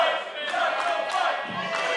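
A wrestling crowd at an independent event shouts and cheers together in a brief, moderately loud burst of mixed voices calling for a title fight.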